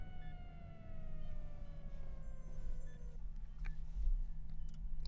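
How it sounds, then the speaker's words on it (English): Sirens in a song, faint sliding tones descending over a low hum, then a few brief high beeps like a heart rate monitor near the end. "Why I hear sirens and a heart rate machine?"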